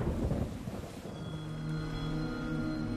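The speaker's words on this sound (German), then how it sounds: "hört man das als eigentliches Donnergeräusch" Thunder from a lightning strike rumbles low and heavy, loudest at the start and then fading into a sustained roll over a rain-like hiss.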